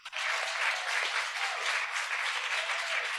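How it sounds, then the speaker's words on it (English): Applause from a festival audience after a documentary film screening, a steady dense wash of many hands clapping continuously throughout, fairly distant and even in level. "I think we can have another applause for the beautiful film"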